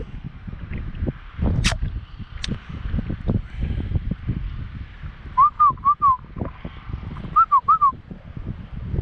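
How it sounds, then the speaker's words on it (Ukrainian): Two short bursts of whistling, each a quick series of rising and falling chirps, ring out over rustling and shuffling noise nearby. "Хто там свистить?"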